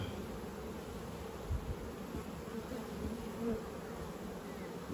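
Honeybees drone steadily in an open hive during a frame inspection, a thick close buzz with slight swells and a few soft bumps.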